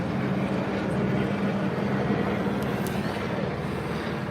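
A police helicopter hovers overhead during a search, its steady broadband rotor and engine roar filling the scene continuously and loudly, with no clear speech.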